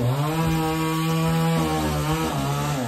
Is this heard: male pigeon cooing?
no